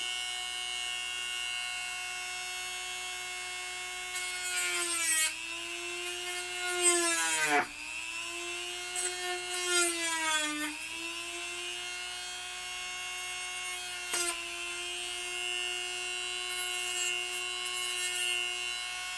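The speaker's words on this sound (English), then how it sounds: "We got to grind it, file it down, but we'll get it close." Small rotary tool grinding a part for an Ecto-1 lightbar, a high steady whine that dips and bogs under load several times, close and continuous throughout.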